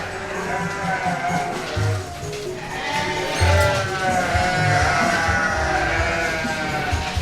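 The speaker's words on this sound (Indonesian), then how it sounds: "Ini saya kawin dengan pejantan sanen atau susu, kambing susu, lihat." Jawa Randu does and a Saanen dairy buck bleating in a mating pen, several overlapping calls close by against a busy farmyard background of shuffling and rustle.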